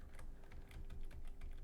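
Quiet, rapid keystrokes on a computer keyboard while someone writes TypeScript code, a steady patter of soft clicks with uneven rhythm, faint and close.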